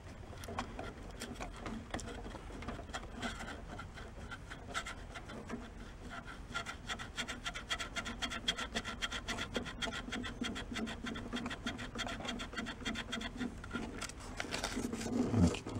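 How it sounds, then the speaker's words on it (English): Sandpaper scrubbing corroded parts from an abandoned VW Beetle left in a leaking, wet garage: a steady, close rasping rub in rapid back-and-forth strokes that continues throughout, with a slight rise in loudness near the end. "I'm gonna rotate the sandpaper so I get it clean when the crap's coming off of it."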